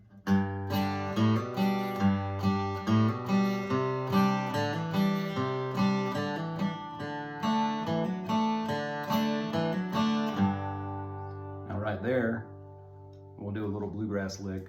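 A stringed instrument plays a bluegrass-style boom-chuck rhythm, alternating bass notes and strummed chords in a steady pulse for about ten seconds, then a brief pause and a few scattered notes, close and clear.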